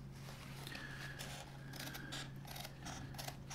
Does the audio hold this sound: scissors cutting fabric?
yes